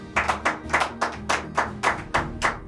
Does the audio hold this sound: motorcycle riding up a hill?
no